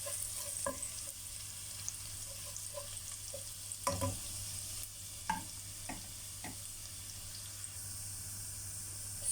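Garlic frying in a pan for tinolang manok, a soft steady sizzle with scattered clicks and taps of a utensil stirring against the pan, close and fairly quiet, with no talking.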